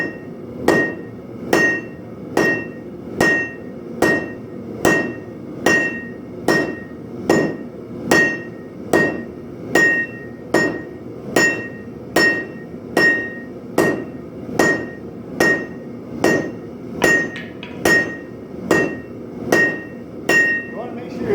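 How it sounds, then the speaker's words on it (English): Steady, evenly paced hammer blows on hot coil-spring steel on an anvil while hand forging a knife blade, about two dozen strikes, each with a bright ringing clang, close and loud. "Grab the inside of the hammer on the anvil"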